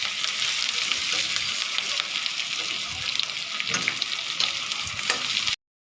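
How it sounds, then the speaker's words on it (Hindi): Vegetables lightly frying in a pan for chili paneer, a steady close sizzle with soft stirring scrapes throughout, no talking. "वेजिटेबल्स को हम लोग हल्का फ्राई कर लेंगे।"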